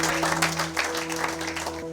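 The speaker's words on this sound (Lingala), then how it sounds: "Acclamez pour la gloire de notre Dieu, de notre Seigneur." A church congregation applauding during a service, a dense burst of clapping with a sustained tonal hum underneath, heard up close at moderate loudness.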